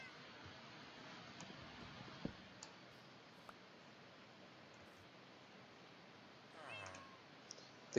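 A cat aboard a boat gives a single faint meow late in an otherwise quiet stretch, with a few soft clicks and taps scattered through the low background hiss.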